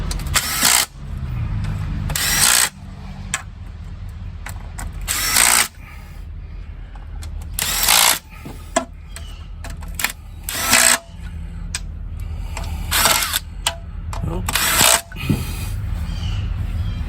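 A power drill runs in short bursts, tightening bolts on a 2007 Buick Lucerne transmission pan outdoors in the snow, each whir close and loud, with quiet gaps between.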